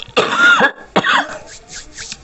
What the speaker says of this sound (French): C'est horrible cette toux.